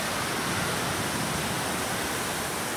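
Running water flowing at a beach fishing spot in Boa Viagem, a steady dense hiss-and-rush with no breaks, fairly loud and close, no voices.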